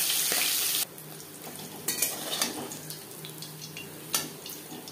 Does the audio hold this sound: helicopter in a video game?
no